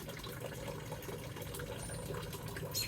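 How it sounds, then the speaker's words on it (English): A small garden water feature sits on the ground and gives a soft, continuous trickle and gurgle of running water, close by and quiet, with no talking. "A little water feature on the ground"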